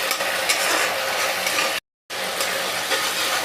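A thick paste stirs and fries in a pan over a high gas flame, a steady close scraping sizzle broken by a brief silent gap midway, for a black sesame and rohu fish dish.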